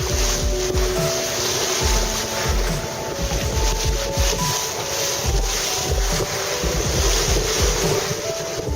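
A sailboat under way in wind along the south coast of Sicily, with a steady loud rush of wind and water washing against the hull, waves surging continuously throughout.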